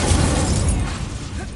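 In Hogwarts Legacy, the Incendio fire spell erupts in a loud, close whooshing burst with a crackling, explosive roar that gradually thins out over about a second and a half.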